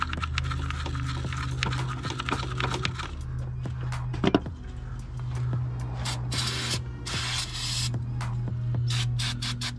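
Brake cleaner sprayed from an aerosol can onto the throttle body of a G37, several close hissing bursts with a low mechanical hum underneath and no speech.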